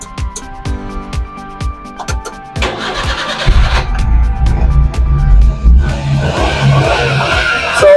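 A Suzuki DA63 4x2 mini truck engine cranking with rapid starter clicks for a few seconds, then catching and settling into a loud, rough near idle with a brief rev.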